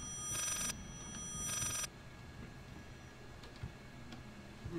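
A ghostly telephone rings twice in quick bursts in the horror game Layers of Fear, followed by quiet ambient rumble and faint ticks.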